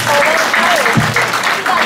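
A crowd at a primary school alumni reunion claps loudly and continuously, with a voice speaking over the applause.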